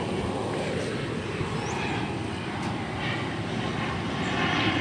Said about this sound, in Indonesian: Hiburan pesawat di atas ISTA Spring.